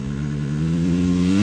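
A TRX250R engine revs hard in third gear, its pitch climbing steadily through a short, loud, close burst with no voices.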